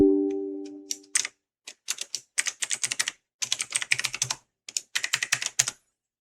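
A computer keyboard clacks crisply and close in fast, uneven bursts as a password is entered in a PowerShell window, following a faint fading hum, with short pauses between runs of keystrokes and no talking.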